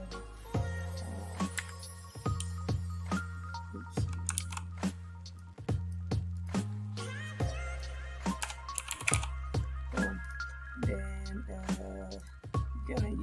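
Typing on a computer keyboard while setting up UV map transfer in Maya, with short bursts of close key clicks separated by pauses over a steady low hum, and someone talking.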